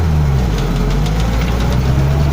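A vehicle engine runs with a loud, heavy, knocking throb after being shifted into fourth gear under hand throttle, its rough low rumble steady and close with no speech.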